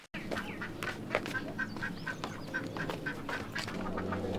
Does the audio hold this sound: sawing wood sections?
no